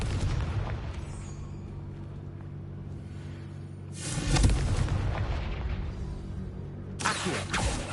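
A Confringo spell blast in Hogwarts Legacy, a deep booming explosion with a sharp burst and rumbling tail, followed by a second burst over a low steady background drone.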